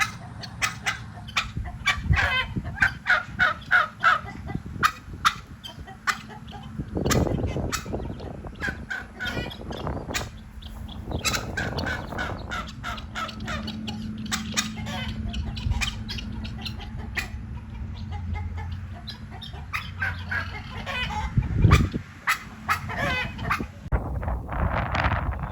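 Chickens and turkeys at a farm with goats and ducks, clucking and gobbling in scattered repeated calls, some close and some farther off, with occasional louder bursts.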